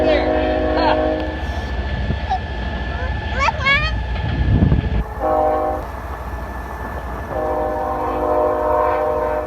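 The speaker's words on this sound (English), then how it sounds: "Oh, there's a train." A train rumbles by, heard from a sailboat on the California Delta, as its horn sounds in several long, steady blasts, with a few voices talking nearby over the noise.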